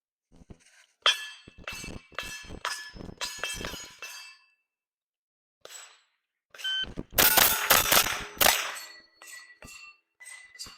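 Rimfire rifle shots ringing off steel plates in a Steel Challenge stage, a run of sharp metallic pings and clinks in quick bursts with short pauses between strings, fairly close and clear.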